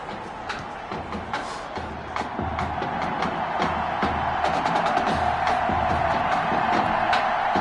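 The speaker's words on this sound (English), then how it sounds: "Well, the crowd is loud and on its feet as Alan Myers gets things started." A crowd in the Madden 21 football video game roars with a building, sustained stadium cheer that grows louder over several seconds, with scattered sharp claps and whoops in it.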